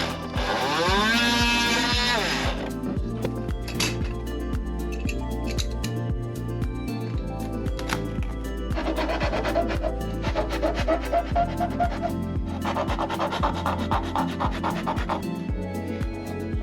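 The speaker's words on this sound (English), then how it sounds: "I'm going to use an oscillating cutter" An oscillating cutter cuts through material while a battery monitor is installed in a Forest River RV: a steady, loud, buzzing mechanical whine runs throughout, with harsher, gritty cutting bursts partway through.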